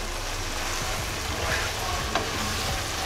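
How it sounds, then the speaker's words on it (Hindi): Minced meat keema roasting in oil in a kadhai over a full flame: a loud, continuous sizzle and fry close by, with a few scraping stirs now and then and no talking. "इसने फुल फ्लेम करके इसको मैं थोड़ी देर इसको भून लेंगे ताकि बिल्कुल ऑयल अलग हो जाए"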